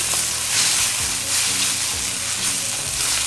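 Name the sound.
masala with pureed tomatoes sizzling while sauteed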